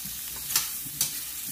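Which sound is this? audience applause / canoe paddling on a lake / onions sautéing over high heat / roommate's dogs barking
onions sautéing over high heat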